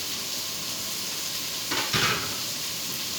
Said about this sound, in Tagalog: Kailangan magisa natin ng maigi para lalabas talaga yung aroma